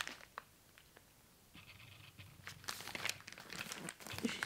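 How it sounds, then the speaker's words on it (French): Gift wrapping paper crinkles and rustles up close, starting soft and growing into louder, busier crumpling and tearing toward the end. "Oh, le papier cadeau."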